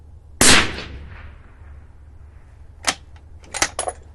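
A single sharp rifle shot cracks loudly and decays, followed after a pause by a few faint ticks and a distant impact on a target, fired from a rifle fitted with a Valdada G2 scope on a bipod.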